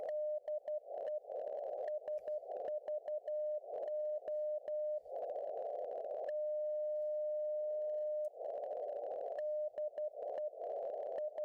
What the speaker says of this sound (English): it might be the French Morse code testing for the French military